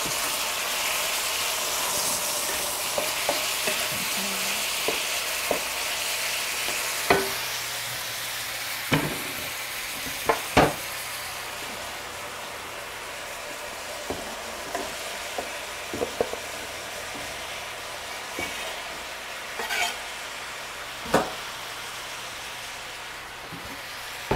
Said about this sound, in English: give that a wee stir